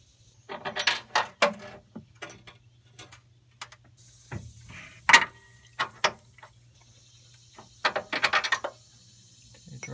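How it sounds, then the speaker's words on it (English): Metal clanks, jingles and knocks as a car's steering rack is worked loose and pulled out from underneath, in scattered close bursts over a steady low hum, with no talk. "So go ahead and pull out this whole steering rack now."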